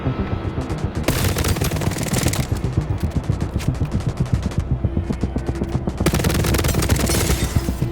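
Continuous automatic gunfire in The Division Resurgence, a shooter video game set in the streets of New York City, loud and sustained with dense rapid bursts throughout.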